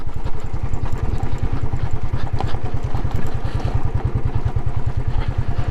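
A Royal Enfield Classic 500 motorcycle on a winter ride makes a loud, close, rhythmic single-cylinder thump, steady and even throughout without speech.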